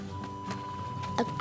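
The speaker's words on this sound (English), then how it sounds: "Then I take Strawberry out of the corral" Horse hooves clip-clopping as a horse is led out of a corral, a few sharp, irregular knocks over a steady background tone.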